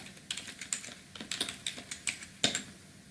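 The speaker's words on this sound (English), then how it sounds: "I am going to type discount amount" Keys on a computer keyboard are tapped in a quick, uneven burst of clicks, close and fairly quiet, with a louder keystroke near the end and no talking.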